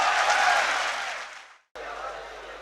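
Audience applause at a mushaira poetry gathering welcoming poet Muzdum Khan, a loud, steady wash of clapping that fades out and then resumes after a brief gap.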